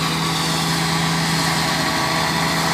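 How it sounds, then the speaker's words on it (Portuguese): A tractor shreds grass nearby in hot sun, a loud continuous engine drone with a steady hum and no break, with no talking. "o menino do trator tá triturando ali, ó"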